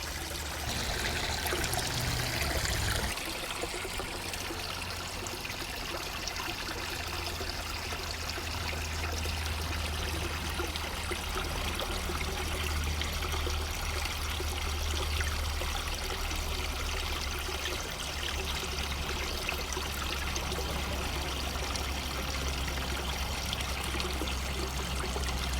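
Water runs steadily into an outdoor goldfish tank, a constant close, splashy trickle and pour that continues without pause.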